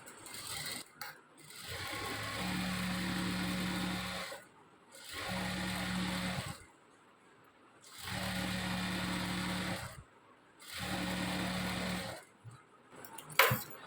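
Sewing machine stitching the lining and fabric of lined straight trousers, four separate runs of steady humming motor whir, each lasting a couple of seconds, with short quiet pauses between them.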